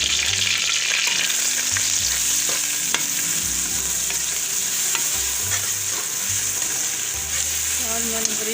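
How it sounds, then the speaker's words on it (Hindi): Onions sizzle loudly and steadily in hot oil in a home kitchen pan for cauliflower and onion kofta, with occasional stirring scrapes layered over the constant frying hiss. "ऑयल गरम हो गया, ये प्याज शामिल कर रही हूँ।"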